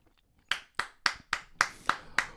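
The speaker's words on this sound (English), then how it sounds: "I'm going to applaud all the ladies" A single person claps hands seven times in a steady rhythm after a brief quiet start, each clap sharp and close, with no talk over it.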